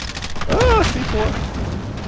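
A C4 explosive detonates in a Call of Duty match as a deep boom with rumbling gunfire-like bursts, close and loud, while voices talk over the blast.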